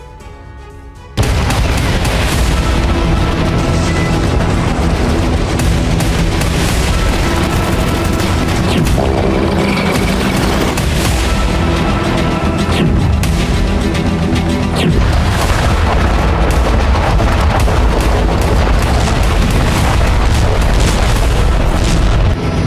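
Heavy booms and rapid gunfire roll on almost without pause from Soviet-era tanks built in the 1960s, loud and dense throughout, with repeated blasts layered over a constant rumble.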